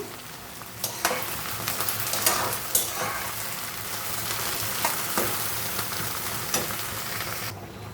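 Vegetable stems (lotis) hit a hot pan and cook in a loud, steady close sizzle with occasional stirring scrapes, ending abruptly, no voices.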